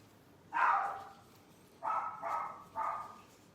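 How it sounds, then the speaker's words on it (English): Tibby the dog barks faintly from some distance, one bark followed by a quick run of three, in an otherwise quiet room. "if you hear Tibby barking"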